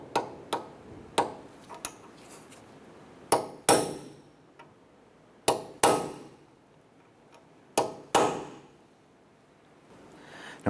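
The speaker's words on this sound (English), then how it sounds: "we're going to go ahead and use a punch, and we're going to dimple the axle nut" Punch hammered against a Honda Accord axle nut to dimple it, about a dozen sharp metallic strikes in uneven clusters, each ringing briefly before fading, close and clear with quiet gaps between blows.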